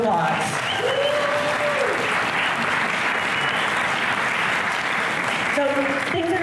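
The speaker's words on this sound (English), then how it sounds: "So let's give them a round of applause." An event audience applauds after sponsors are thanked at a cannabis association talk night, sustained clapping from a crowd filling the room, loud and steady for several seconds with a few faint tones and voices underneath.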